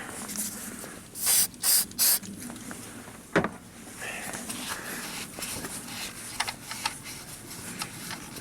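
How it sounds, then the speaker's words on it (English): Three short hissing bursts from an aerosol spray cleaner, close and loud, cleaning gunked-up buildup on a GM truck battery, followed by quieter clicks and handling noises. "spray cleaner."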